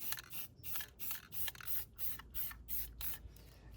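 Spray paint can hissing onto a concrete curb in repeated short bursts, about eight sharp sprays with brief gaps, close and fairly loud.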